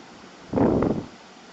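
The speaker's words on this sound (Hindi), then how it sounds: "हम इसमें 1 गिलास पानी और डालेंगे।" A glass of water splashes into a pot of beef biryani in a brief half-second pour, with a soft steady hiss before and after.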